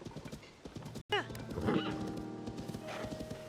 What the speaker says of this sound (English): That's okay, we've got a horse.